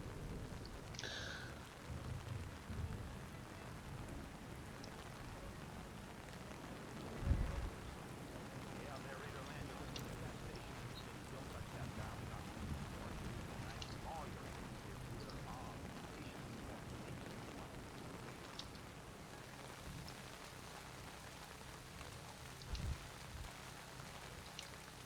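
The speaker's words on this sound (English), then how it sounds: "It's really raining." Steady, soft rainfall hisses throughout a stealth-mission level of the video game Splinter Cell Chaos Theory, a constant wash of distant rain with a few faint thuds and rumbles under it.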